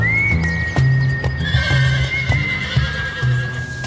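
A thoroughbred horse at a bloodstock auction barn gives a long, loud whinny while hooves clip-clop in a steady, close rhythm on a hard surface.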